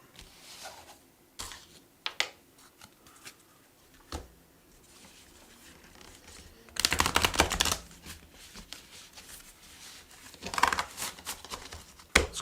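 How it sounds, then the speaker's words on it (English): Cards are riffle-shuffled up close in a quick fluttering burst, then a shorter second burst, with light tapping and handling sounds in between. "I'm going to shuffle real quick here."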